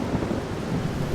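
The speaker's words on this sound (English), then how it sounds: "The thunder crashed" Thunder rumbles through a storm, a dense, loud low roar with steady broadband noise like rain behind it, continuous for the whole moment without a clear single crack.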